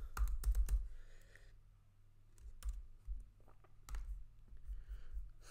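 Computer keys clack in short bursts of quick taps, close and crisp, with pauses between the runs of typing and no talk.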